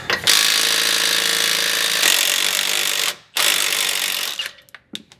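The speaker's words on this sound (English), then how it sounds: "I'm gonna hit it with the impact" An impact wrench hammers loud and close on a shock bolt of a Chevrolet Silverado during a Bilstein 5100 shock install, in two long rattling bursts split by a short pause, then trailing off into a few brief taps.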